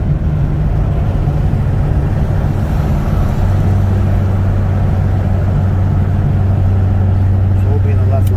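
A 2005 twin turbo C6 Corvette cruises at about 50 mph in second gear ahead of a roll race, its engine holding a loud, steady drone that deepens partway through, with a person talking over it.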